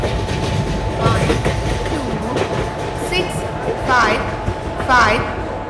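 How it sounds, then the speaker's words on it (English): A train pulls into a railway platform with rhythmic clickety-clack of wheels and rumbling carriages, while a platform announcement echoes faintly in the background. "Goods Express is arriving at platform number 3."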